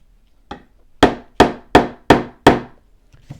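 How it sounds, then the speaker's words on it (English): A hammer strikes sharply against a guitar neck during fret leveling, one lighter tap followed by five loud, evenly spaced blows at close range, then a faint knock. "And I'm hammering that pretty well."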